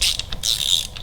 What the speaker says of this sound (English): Install our cam tool and finish tightening